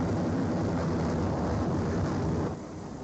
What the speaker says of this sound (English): Full throttle, the aircraft will not move because I'm attached to the catapult.